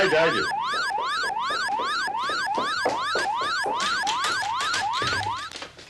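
A house burglar alarm siren wails loudly and steadily up close, its rising and falling electronic tone repeating rapidly without pause and cutting off near the end.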